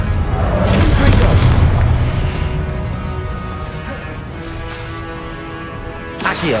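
Confringo fire-spell explosions in the game Hogwarts Legacy, deep booming blasts with crackling debris that swell early and fade into a rumbling tail, with another impact near the end.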